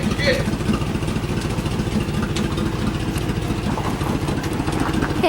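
A 1997 Chevrolet Suburban's freshly swapped engine runs steadily at idle, a continuous close, loud rumble with faint voices underneath.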